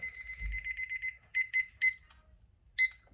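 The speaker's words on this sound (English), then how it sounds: "And we're going to set a 15-minute timer." A kitchen-style timer, set for 15 minutes during a veterinary clinical pathology fecal flotation test, beeps loudly in rapid repeated bursts, then in a few separate clusters after short pauses.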